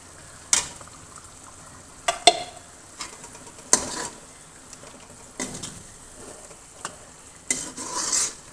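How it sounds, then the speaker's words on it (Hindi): A spoon stirs achari chicken karahi in a pan as water is added, with scraping clinks and a soft sizzle of the masala, no voices. "तो मैं इसमें हाफ कप ऐड करूँगी पानी का।"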